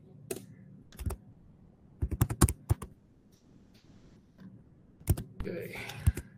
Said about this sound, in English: And I'm just going to type tree